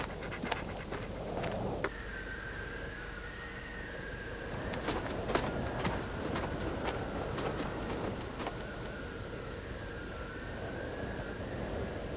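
A dog pants steadily and quickly close by for several seconds, a continuous breathy rasp with a faint mechanical hum underneath and no talking.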